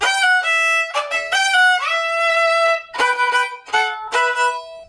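A short violin passage of bowed notes, clear and close, moving through a few phrases with brief pauses between.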